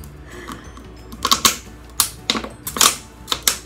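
Scissors cut open a plastic bottle in a run of sharp, close snips and crunches, some spaced apart and others in quick clusters, with no talk over them.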